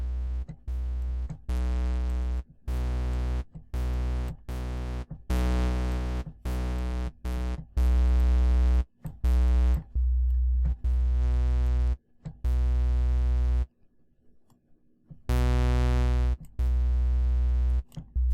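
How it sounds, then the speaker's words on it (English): Deep sub square wave synth bass notes from a Reason rack extension in a choppy sequence, strong harmonic buzz over a heavy low fundamental, loud and close, with short gaps and one longer pause. "This is a sub square wave"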